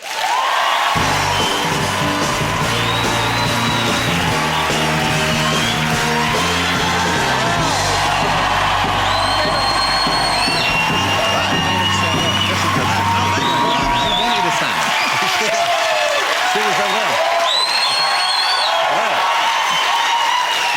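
A television chat-show studio audience roars with cheers, whoops and applause as Will Ferrell walks on, loud and sustained for the whole stretch, with a band playing underneath early on and scattered shouts rising above the crowd.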